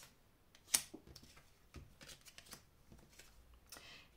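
Tarot cards are handled and laid out, giving soft papery shuffles, flicks and taps with one sharp snap near the start, close and fairly quiet, with no talking.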